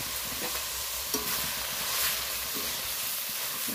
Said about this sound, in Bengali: একদম শুকিয়ে নিয়েছি, আর দিয়ে দেবো এই সেদ্ধ করে রাখা ডাল।